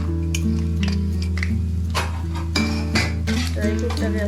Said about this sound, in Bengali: আমার ঘি গরম হয়েছে, এখন আমি ড্রাই ফ্রুট দিলাম।